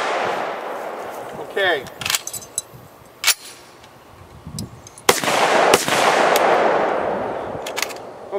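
M14 rifle fire comes as several loud, separated single shots with gaps between them, close by at an outdoor range. Someone speaks briefly between the shots.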